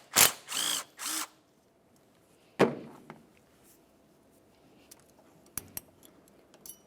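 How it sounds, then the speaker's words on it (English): Removing the power steering pressure line bracket's mounting bolt on a 2003-2007 Honda Accord with a 10mm tool. Three quick whirring bursts come first, then a sharp clank, followed by scattered light metallic clicks. "Use a 10mm to remove that mounting bolt."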